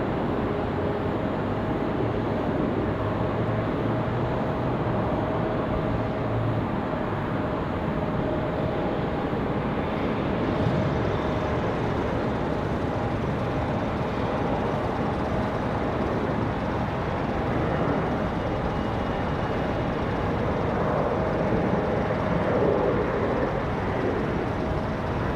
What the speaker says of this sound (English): Why do I hear a car running? Sounds like it's close.